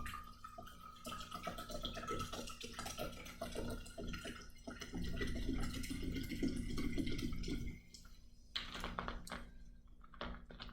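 Cold refrigerated soda water is poured into a container, a steady fizzing, splashing pour that swells in the middle and then stops, followed by a few small drips and clinks.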